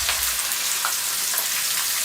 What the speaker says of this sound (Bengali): পেঁয়াজগুলোর কালার পরিবর্তন হওয়া পর্যন্ত আমরা এগুলোকে একটু ভেজে নিব।